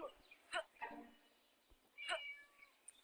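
A cat in the Scary Teacher video game meows several times in short, sharp cries, close and clear against a quiet background.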